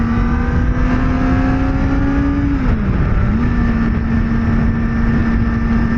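Kawasaki Ninja ZX-4RR motorcycle engine droning loud and close while riding, a steady high whine that dips briefly as revs drop and then recovers, with wind rush underneath.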